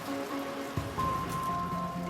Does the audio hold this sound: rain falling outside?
yes